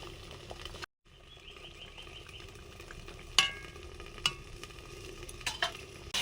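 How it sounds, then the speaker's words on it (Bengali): Pieces of katla fish going into a boiling fish curry, a soft continuous simmer and sizzle with a brief dropout, then several sharp splashes and clinks scattered through the later seconds, close but fairly quiet. "ঝোল ফুটে গেছে মাছগুলো দিয়ে দিলাম"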